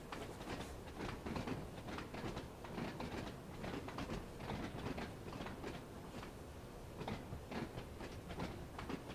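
In the Train Sim World game, a train runs over the points on a high-speed line. A steady rumble is broken by repeated clattering wheel clicks at an even rhythm, loud and close, with no voices.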